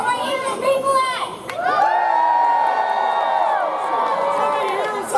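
A large Renaissance fair crowd cheers, whoops and shouts together at a finale show, a loud sustained roar of many voices with high whistles and shrieks rising over it.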